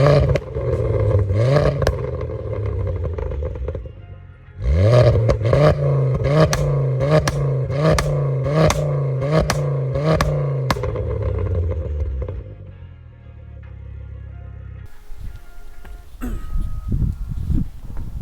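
A Ford Focus ST Mk2 engine on its standard back box revs repeatedly in loud, close bursts, a run of about a dozen sharp blips with crackly rises, then settles to a lower steady note before fading into scattered clatter.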